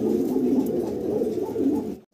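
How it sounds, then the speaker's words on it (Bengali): Pakistani-line high flyer pigeons coo steadily at close range, a continuous low throaty burbling that holds for about two seconds before cutting off. "এটা ভাই ওই পাকিস্তানি লাইনের উড়াউড়ি কবুতর, জানি হাই ফ্লায়ার কবুতর"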